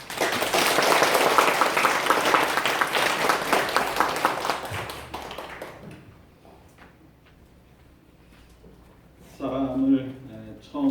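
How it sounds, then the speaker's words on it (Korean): A church congregation applauding during a Korean-language service: brisk, full clapping that tapers off over about six seconds into a hush, before a voice starts speaking near the end. "우리 목사님 나오실 때 박수 한번 하겠습니다."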